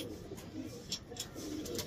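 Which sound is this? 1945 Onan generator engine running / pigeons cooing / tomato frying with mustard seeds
pigeons cooing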